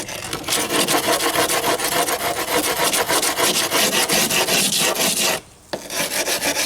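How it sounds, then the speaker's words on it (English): A brick rubbed back and forth against a concrete foundation to flatten rough spots, a loud close rasping scrape in fast regular strokes with one brief pause near the end. "Just get a brick, flatten out the bad spots."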